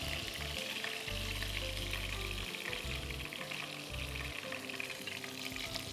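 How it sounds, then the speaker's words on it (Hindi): Stuffed green chillies fry in hot oil for a Balochi karahi, giving a steady close sizzle throughout with faint low thumps from the pan. "ये वाली हरी मिर्चें जो हमने भरी थी, अच्छा, उनको आप फ्राई करेंगे?"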